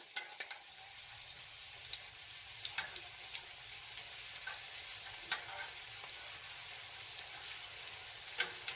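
Chicken flautas fry in hot oil with a continuous bright sizzle and crackle, dotted with small pops and spits, heard up close without any talking.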